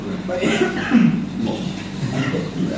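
A single cough, close and moderately loud, with a little background murmur around it.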